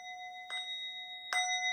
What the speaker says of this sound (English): it's an international interreligious singing bowl.